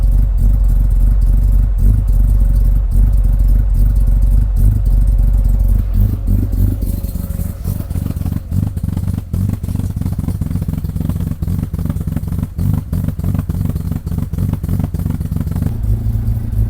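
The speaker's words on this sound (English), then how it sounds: "as it warms up, the RPMs are obviously going to increase." A Mazda RX-5 engine runs steadily while warming up, a rough, clattering idle that rises into louder revs with rapid pulsing, close by and without talk.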